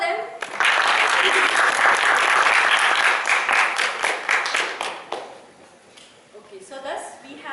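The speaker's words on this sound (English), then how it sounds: "clap for them" Audience members at a medical quiz competition clap for contestants, a lively burst of applause from a modest crowd that swells quickly, then thins and fades, with voices chattering underneath and afterward.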